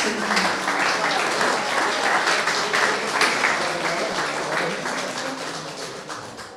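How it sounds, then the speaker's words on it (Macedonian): Dense, even applause fills an award ceremony at the Kavadarci art colony as the crowd claps for painter Vladimir Temkov, fading slightly toward the end. "Еден аплауз за Владимир Темков"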